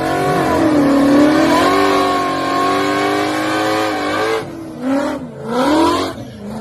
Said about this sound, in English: Okay, so 661 Racing raced a bolt-on Hellcat.